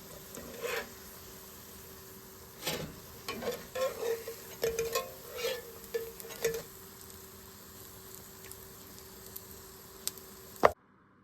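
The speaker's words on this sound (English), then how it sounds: "So these are the potato pancakes, fully cooked, extra crispy. Just give a listen." Extra crispy potato pancakes fry in a pan with a faint, steady sizzle, broken by short bursts of crackle and light scraping, ending in a sharp click.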